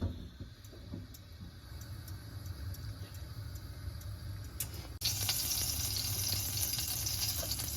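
Mustard seeds crackling and spluttering in plenty of hot sesame oil in a kadai, a steady close sizzle with scattered pops that turns sharply louder and brighter partway through.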